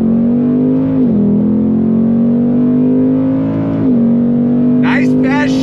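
A 2022 Ford Mustang GT V8 pulls hard under throttle on a track, its loud, steady engine drone dipping briefly at two quick gear shifts, with a short burst of voice near the end.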